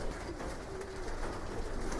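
Racing pigeons at their loft coo in a low, continuous murmur, many birds overlapping at close range against a dense background hum.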